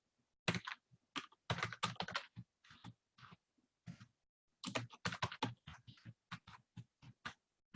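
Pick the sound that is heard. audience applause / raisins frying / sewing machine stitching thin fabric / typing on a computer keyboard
typing on a computer keyboard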